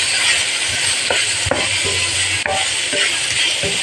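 Pork and dried chorizo sausage sautéing in a pan for paella, a steady sizzle under repeated scraping stirs and occasional light clinks of a utensil against the pan.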